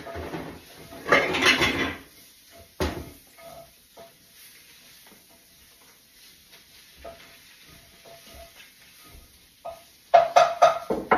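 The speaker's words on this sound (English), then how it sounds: "I'm going to get the pie pan out." A pie pan is pulled from a kitchen cupboard with a short burst of clattering metal and rummaging, followed by scattered knocks and faint handling, then a louder cluster of rattling clanks near the end.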